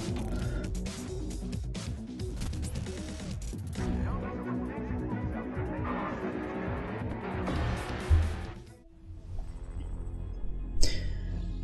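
Tires squeal as a car drifts in the racing video game Grid 2, with a steady engine roar and bursts of skidding throughout, ending in a brief louder scrape.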